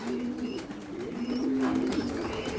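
Pigeons coo in a loft, several soft low throaty calls rolling one after another close by, with faint higher chirps and background rustle.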